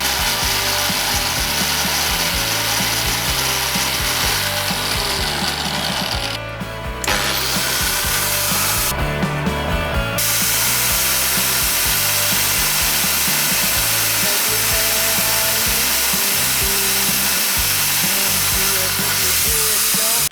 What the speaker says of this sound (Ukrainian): давайте тепер болгарки перевіримо на балансування